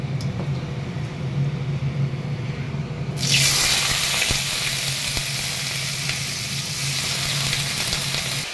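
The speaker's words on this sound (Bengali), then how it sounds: "চলো এবারে একটু ভেজে নেবো আলুর তরকারিটা" Potato curry frying in hot oil with five-spice: a quiet kitchen hum for about three seconds, then a loud, steady, hissing sizzle bursts in and carries on without talk.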